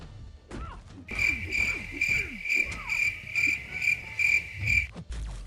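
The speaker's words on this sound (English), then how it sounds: "You get the crickets." Crickets chirp in a steady pulsing rhythm as a comedic sound effect after a joke, loud and continuous for several seconds over low rustling game noise.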